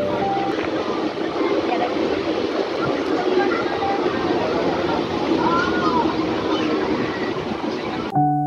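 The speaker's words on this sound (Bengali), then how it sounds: "ট্রেন এখন অতিক্রম করছে গদাধরপুর স্টেশন।" A train passing Gadadharpur station on the way to Rampurhat makes a continuous rumbling, rushing noise from on board, steady and fairly loud throughout, with brief squeals near the middle.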